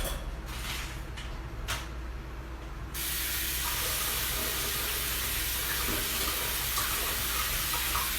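Kitchen tap running steadily while golden beets are rinsed, a soft continuous splashing hiss that grows fuller and brighter partway through.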